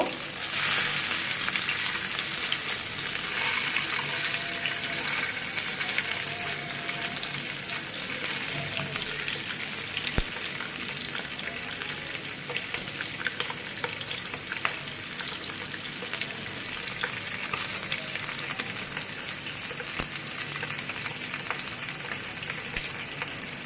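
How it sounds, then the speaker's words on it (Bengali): Steady, crackling sizzle of eggs frying in hot oil, continuous and close, with occasional small pops and no talking. "বেশি পোড়া পোড়া করে ভাজবো না, মিডিয়াম ভাবে আমি ভেজে নেব"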